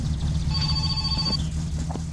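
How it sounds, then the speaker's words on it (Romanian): Telephone ringing in the video game My Summer Car, a steady electronic tone held for about a second over a loud, constant low engine rumble. "Sună telefonul."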